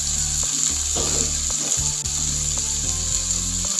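Onion, tomatoes, green chilies and capsicum frying in a pan, a steady sizzle with light stirring scrapes, set against a droning musical background.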